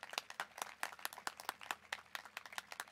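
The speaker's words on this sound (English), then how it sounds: "A round of applause, yes." Scattered applause at a high school graduation ceremony, distinct individual claps in an uneven rhythm, fairly faint and distant as if heard across a large venue.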